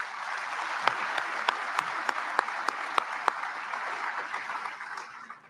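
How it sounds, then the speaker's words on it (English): An indoor crowd at an Iowa caucus event applauds in a steady, dense wash of clapping with a few sharper individual claps standing out, fading near the end. "I'd like to give them a big round of applause"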